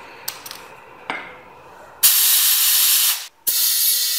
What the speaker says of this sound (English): Now we can fill it up with our air compressor.